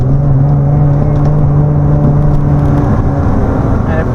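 A 700hp Lexus SC300 engine drones loud and steady with a strong low harmonic hum, holding a sustained rev throughout without clear peaks.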